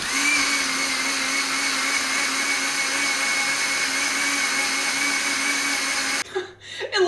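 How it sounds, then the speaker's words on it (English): A blender churns a water and sand drink, a loud, continuous whirring roar that holds steady for about six seconds before cutting off abruptly near the end. "we simply have to blend the crap out of this."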